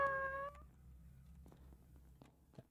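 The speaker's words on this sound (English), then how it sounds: "I was trying to hit the cat." Cat meows in the Among Us video game: one clear, tonal meow at the start, followed by quieter clicks and faint game sounds, with no talking.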